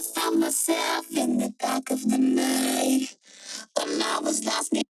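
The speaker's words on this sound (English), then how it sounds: "I have this vocoder here and it sounds like this" Robotic, vocoded vocal phrases with a buzzy harmonic tone, sung in several bursts separated by short pauses, loud and close.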